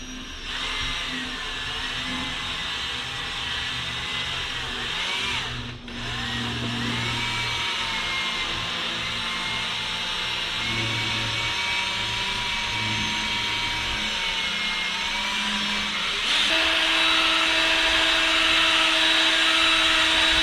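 A drill-mounted mixing paddle whirs steadily in a bucket of garage floor epoxy coating, a continuous loud motor whine with a brief dip partway through and a slightly higher, stronger pitch near the end, with no talking.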